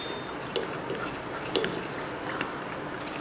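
A turmeric and detergent mixture in water gets stirred, a faint scraping swirl with a few light clinks of a spoon against the container, quiet and close with no talking.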